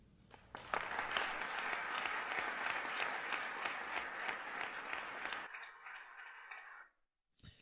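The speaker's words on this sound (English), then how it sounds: "It was a celebratory speech applauded by many people in December of 2021" Loud crowd applause following George W. Bush's speech on the Taliban regime, a sustained dense clapping that holds steady for several seconds and then fades out abruptly into near silence.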